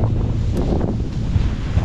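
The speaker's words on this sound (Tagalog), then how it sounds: "Habang tumatagal, mas lumalakas yung hangin" Strong wind in Tagaytay buffets the microphone in a continuous low, rushing roar, with no voices.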